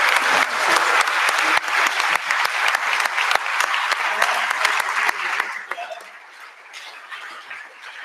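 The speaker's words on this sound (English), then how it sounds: "We'll do a big round of applause for Andrew." A lecture audience gives a big round of applause, loud, continuous clapping from many people that fades gradually toward the end, with a few scattered claps and murmurs remaining.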